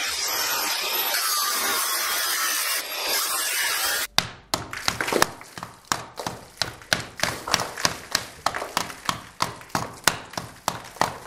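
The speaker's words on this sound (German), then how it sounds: "So, jetzt schneide ich noch einmal von der anderen Seite hinein." A saw cuts into drywall during plasterboard ceiling and window reveal work, first a few seconds of loud hissing noise, then a rapid regular series of rasping strokes, close and prominent with no talking.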